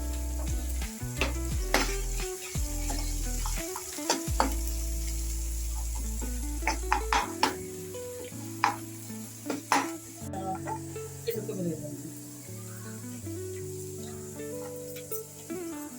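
Chopped onion with a pinch of salt fries in a pan until brown. A steady sizzle runs alongside repeated stirring scrapes and clinks of a spoon, with tonal music playing underneath throughout.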